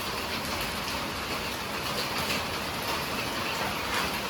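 Heavy rain pours steadily outdoors during an open-air desi chicken cookout. It makes a dense, even hiss of drops, with no voices.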